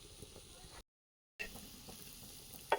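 Steady hissing sizzle of pitha frying in hot oil, fairly quiet, briefly cut out, with a small clatter near the end.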